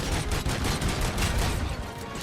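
Rapid turret gunfire in the video game RoboCop Rogue City, a dense burst of automatic shots rattling continuously for about two seconds at moderate level with no speech.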